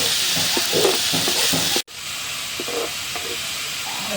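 Hilsa fish curry with cauliflower being stirred in a frying pan with a thin steel spatula, giving a close, steady sizzle and hiss with soft rhythmic scraping strokes, broken by a brief dropout partway through.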